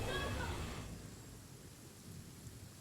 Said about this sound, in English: It's still thunderstorming here for us.